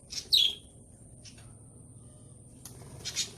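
Birds chirping outdoors in the morning, a few short bright tweets separated by quiet gaps, moderately close.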